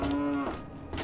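A Brahmin cow in the video game Fallout 3 lets out a single short, low moo, close and fairly loud, followed by a brief rustle.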